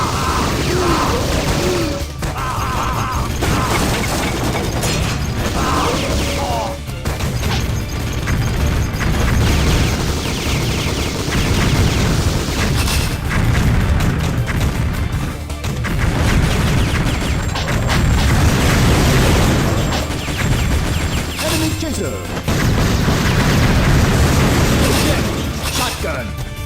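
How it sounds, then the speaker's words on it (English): Heavy machine gun fire in the video game Metal Slug 3D, a dense, loud, continuous barrage of rapid shots and booms running throughout with game effects layered in. "Heavy machine gun."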